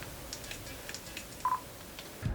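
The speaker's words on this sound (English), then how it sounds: "it'll turn green and it'll actually give you a little beep" A Nikon D3300 camera gives a short, clear electronic focus-confirmation beep midway through an otherwise quiet stretch with faint background hiss.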